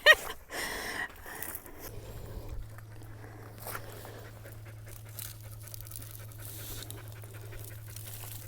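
A dog pants close by in a garden where a hole is being dug to plant bare root roses. Quick breathy panting and some scuffling come first, then a steady low hum fills the rest.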